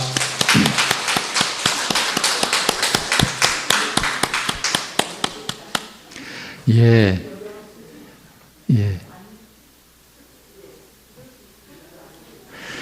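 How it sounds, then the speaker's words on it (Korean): A Sunday service congregation at a Presbyterian church claps in thanks, a loud rapid crowd of hands for about six seconds, after which a voice speaks over a quiet room. "우리 박수로 감사"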